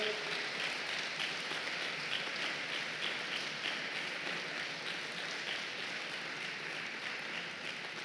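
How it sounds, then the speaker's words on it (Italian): Applause from a conference audience at a care-sector convention in Padua, a steady, dense wash of many hands clapping that holds evenly and fairly distant throughout, with no voices over it. "vorrei far sentire da questa platea un grande applauso"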